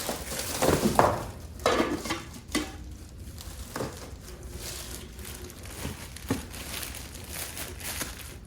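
Lids from a new 11-piece cookware set clink and scrape against pots in a few light, separate metallic knocks, with soft rustling and handling noises between them.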